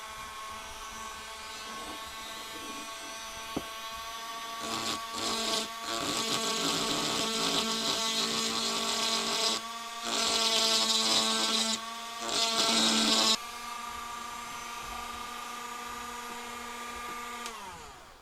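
A Dremel 4300 rotary tool whining at high speed, a steady tonal motor drone that rises louder and harsher as it bites into work from about five to thirteen seconds, then settles back to a free-running hum.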